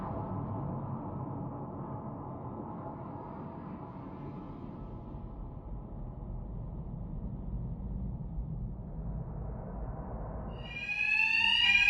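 A steady, droning facility alarm blares continuously in Batman: Arkham Knight, with a brighter tonal burst rising at the very end.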